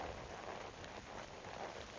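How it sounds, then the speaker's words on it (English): Steady rain falls through the trees during a seven-mile trail ride, a dense, even hiss that stays close and constant with no voices. "It is raining here now too still."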